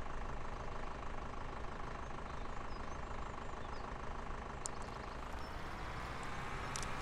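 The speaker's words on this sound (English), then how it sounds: "I really like this tractor." A tractor engine in Farming Simulator 17 idles in a steady, low, knocking rumble that holds constant and fairly close, with a couple of faint high clicks toward the end.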